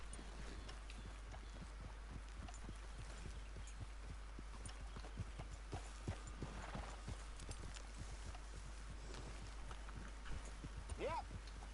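Dutch's horse in Red Dead Redemption 2 walking along, steady clip-clop of hooves under a low hum, with occasional creaks and a brief snort near the end.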